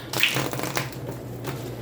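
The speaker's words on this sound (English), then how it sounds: "I don't know why I can't shuffle today or any other day." Tarot cards being shuffled by hand: short, crackling riffles and soft slaps of card stock in quick, uneven bursts, close and fairly quiet, with no talking.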